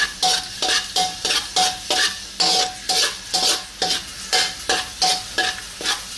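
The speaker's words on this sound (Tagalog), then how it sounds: "Maggisa na tayo ng bawang." Garlic sautés in hot cooking oil for pancit bihon, sizzling loudly under a quick, regular rhythm of scraping stirs and spatula strokes against the pan.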